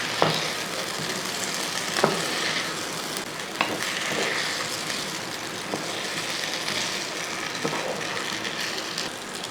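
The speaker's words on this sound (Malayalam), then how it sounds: "ഇനി നമുക്ക് ആ ഗ്രേവിക്കകത്ത് ആ ചിക്കൻ ഒന്ന് ഇളക്കി പുരട്ടിയെടുക്കും" Chicken stirred through a chilli gravy in a pan for dry chilli chicken, giving a steady soft sizzle with a few sharp clinks of a spoon against the pan spaced a couple of seconds apart.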